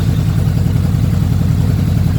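A 2017 Honda VFR800F motorcycle idles close by with a loud, steady, low engine rumble and a faint mechanical clatter, holding an even pace throughout with no revving and no voices.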